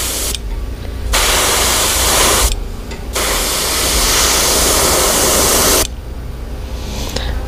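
A spray gun hisses in long bursts while painting a custom motorcycle, loud and close, with brief pauses between passes and no voices.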